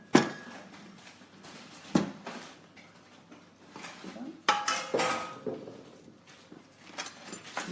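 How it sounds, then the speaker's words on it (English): Batter is scraped and spooned from a bowl into two cake pans for a giant pina colada cupcake, giving scattered clinks and knocks of utensil on metal and bowl, with a few sharper taps standing out. "So with your mixture, just divide it between the 2 pans."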